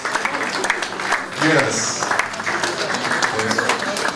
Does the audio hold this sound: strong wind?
no